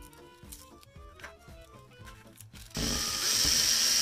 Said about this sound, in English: I'm pre-drilling a couple of holes so I can put a couple real screws in later on